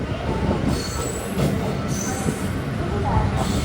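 Bhubaneswar Express standing or rolling at Katpadi Junction, giving a loud steady rail rumble with high wheel squeals, while someone talks nearby.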